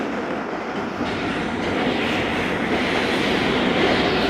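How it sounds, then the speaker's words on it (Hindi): Thal Express passenger train rolling through Sangjani tunnel on a steep mountain section: a loud, enveloping roar of wheels and rushing air, steady and slowly building, with no speech. "यही दोस्तों संगजानी टनल में से हमारी ट्रेन"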